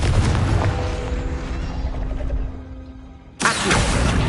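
A Confringo fire spell bursts in Hogwarts Legacy with a loud broadband blast. It rumbles and fades over about three seconds, then a second sharp burst hits near the end.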